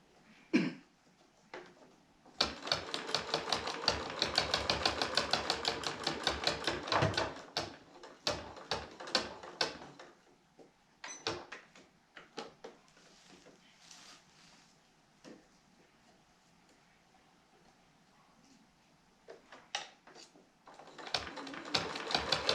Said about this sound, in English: Can you hear the needle popping through the sequins each time?